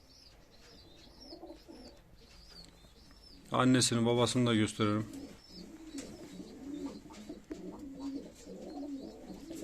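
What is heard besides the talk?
pigeons cooing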